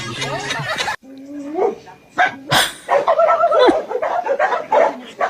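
A dog barking in a home setting: several sharp barks and yips in bursts between human voices and laughter, close and loud.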